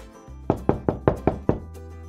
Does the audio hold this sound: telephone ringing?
no